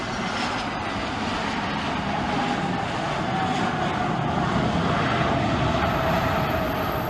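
An airplane comes in to land at Cristiano Ronaldo Airport in Portugal, its engines making a loud, continuous broadband roar that swells slightly and holds steady throughout, with no voices.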